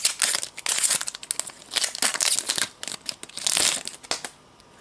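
A Pokémon XY Turbo Impulse Zoroark booster pack is torn open, making close, loud bursts of foil crinkling and tearing in uneven clusters with short pauses between them.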